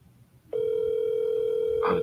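A single steady telephone tone starts abruptly after a short quiet stretch and holds unbroken, loud and close, for an unanswered call.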